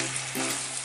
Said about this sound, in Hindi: हम चिकन को इन सारी चीज़ों के साथ फ्राई करेंगे